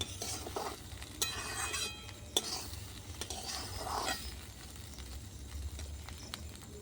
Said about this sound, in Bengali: চালটা যত ভালো ভাজবেন তত ভালো হবে।